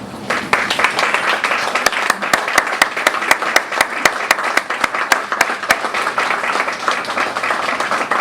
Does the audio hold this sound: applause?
yes